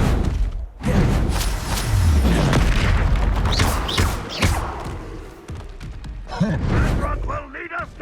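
Confringo spell explosions in Hogwarts Legacy on Xbox Series X: several heavy booms and thuds in quick succession among chaotic combat noise, with speech mixed in.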